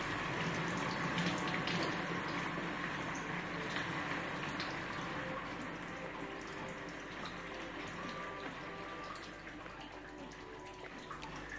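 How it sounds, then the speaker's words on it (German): Pressurised water and gas rush out of a Minerade H2-Shuttle cartridge as the osmosis tap opens, a steady close hissing gush that slowly eases off. "dass sich Druck in der Kartusche aufbaut, welcher dann beim Öffnen des Wasserhahns bei Osmose oder Ionisierer auf solche Art"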